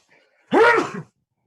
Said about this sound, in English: I sneezed into a napkin